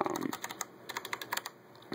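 Close, quiet typing on a Logitech G710+ mechanical keyboard with Cherry MX Brown switches, a quick irregular run of soft tactile clacks.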